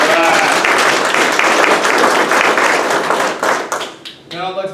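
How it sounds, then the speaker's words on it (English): Applause from an audience at a military graduation and promotion ceremony, dense steady clapping that carries for several seconds and then thins into scattered claps near the end, with a voice heard briefly over it. "Let's give another round of applause to our newest promotees."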